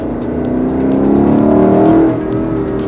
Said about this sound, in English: it likes to give you that nice Lexus high-pitched rumbly sound